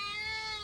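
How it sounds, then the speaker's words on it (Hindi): A single, close, drawn-out meow from a big cat, clear and fairly loud, with no talking over it. "ओहो देखो कितनी बड़ी बिल्ली।"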